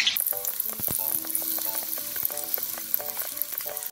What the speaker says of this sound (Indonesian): di sini kita goreng sampai benar-benar kering ya